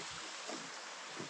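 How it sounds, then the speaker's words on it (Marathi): A small waterfall and flowing water in a rainy forest on a jungle trek in Karnataka make a faint, steady broadband rush, distant and unbroken, with a few soft low thumps. "आता बाजूला ऐकू शकता, इथे वॉटरफॉलचा आवाज येतोय छोटासा, असा पाणी वाहतंय कुठून तरी"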